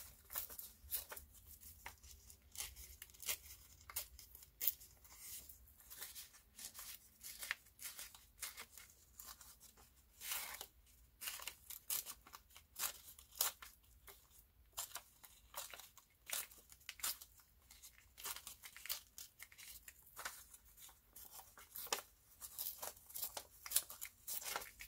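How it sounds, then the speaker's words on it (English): Paper torn by hand for a craft envelope pocket, heard as quiet, close, irregular ripping and crinkling bursts spread over the stretch, with no talking. "but I'm just going to tear it"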